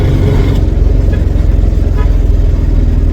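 A road vehicle's engine runs loud and steady, a continuous low throbbing drone with slight revving that fills the whole moment without any clear speech.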